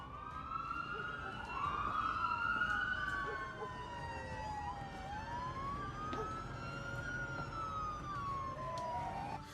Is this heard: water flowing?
no